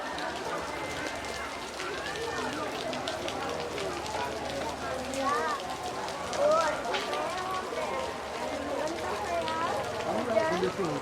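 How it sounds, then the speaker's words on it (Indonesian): Heavy rain pours at the Penyengat mosque on Penyengat Island, a dense steady hiss of drops on surfaces throughout, with voices talking over it. "Tapi di masjid ini kita sekarang hujan lebat tuh"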